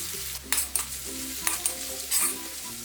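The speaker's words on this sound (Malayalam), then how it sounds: "ഓയിൽ ഇവിടെ ചൂടായി വന്നിട്ടുണ്ട്. ഇനി ഈ സവാള ഇതിലിട്ട് ഫ്രൈ ചെയ്തെടുക്കാം." Onions fry in hot oil for chicken karahi, a close sizzle marked by repeated stirring scrapes and clinks over a low steady hum and faint music.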